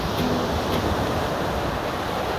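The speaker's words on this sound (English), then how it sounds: "Now there's a tiny bit of wind" Light wind at sea during freestyle sailing, a steady broadband rush of wind and water close to the microphone, with no voices.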